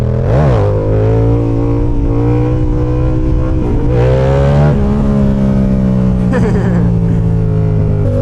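A motorcycle engine revs hard for a wheelie, a loud continuous drone that rises and falls in pitch with repeated throttle blips, close by and alone with no talk over it.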